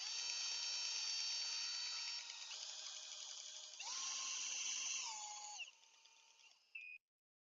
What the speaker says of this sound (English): once you've finished your lift, just reverse the drill a little bit, just to back it off, so it's easy to get the drill out